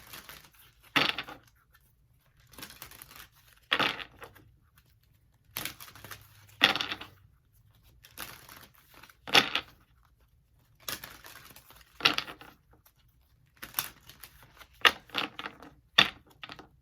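Tarot cards shuffled and pulled from a deck, a series of short, crisp slapping and riffling bursts close by, separated by quiet gaps and clustering faster toward the end.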